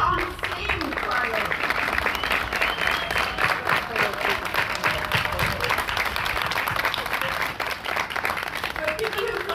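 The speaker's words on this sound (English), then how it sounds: "Let's give a great clap to the wonderful singing from Linscott Community Choir" An audience applauds the Linscott Community Choir and the Common Singing Choir at a gathering, with sustained, dense clapping filling the room and voices mixed in throughout.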